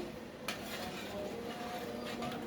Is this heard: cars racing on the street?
no